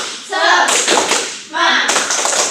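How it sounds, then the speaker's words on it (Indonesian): A classroom group claps a rhythmic cheer pattern in two quick bursts of dense, overlapping claps, close and fairly loud, with voices mixed in. "Kita coba ya, tepuk semangat."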